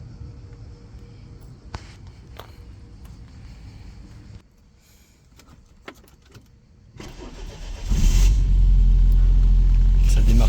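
A Citroën CX Pallas 25 IE cranks and starts, with quieter mechanical clicks and shuffling before the engine catches and settles into a loud, steady low rumble near the microphone.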